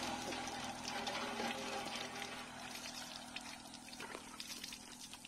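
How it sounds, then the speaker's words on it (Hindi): Water from a hand pump splashes and pours steadily, a continuous trickling gush with faint background noise and no speech. "हैंडपम्प से कैसे पानी निकलता है।"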